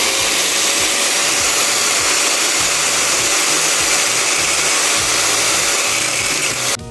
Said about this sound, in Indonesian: Dan bagian terakhir ini sepertinya harus kita potong dengan gerinda guys